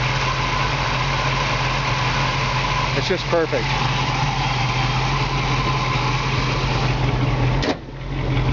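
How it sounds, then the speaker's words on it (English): A 1969 Pontiac Firebird convertible's V8 idles close by in a steady, even rumble, with someone speaking briefly over it and a short clunk near the end. "You can hear the engine just purrs like a kitten."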